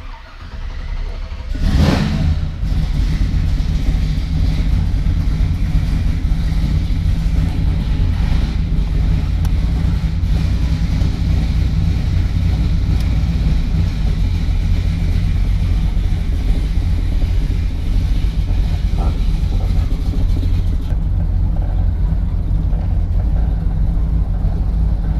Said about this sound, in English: Let's fire it up and take it around the block